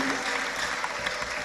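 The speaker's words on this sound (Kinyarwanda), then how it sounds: "tumukomera amashyi" A congregation claps in praise during a lively Rwandan gospel church service. The applause is a dense, loud, continuous roar of many hands that fills the whole short moment.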